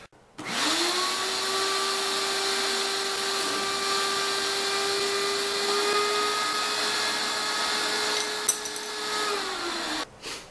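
A shop vac fitted with a cyclone separator roars steadily for about ten seconds, a loud whining motor hum with a high airy rush that winds down at the end.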